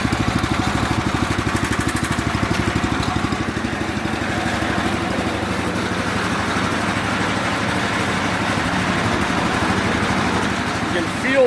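An ATV-mounted snowblower runs after its clutch is engaged, a close, steady, buzzing engine drone with a fast regular pulse throughout, while people talk over it.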